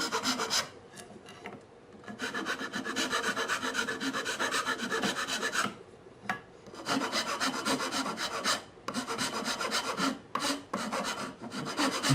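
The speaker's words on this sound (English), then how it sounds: "And using the rasp in this way, you'll see is done at various times as I reduce the size of the tenon." A wood rasp rounds the tenon of a Japanese shoji screen piece, giving long, steady, loud rasping strokes in repeated bursts with short pauses between them, close and alone.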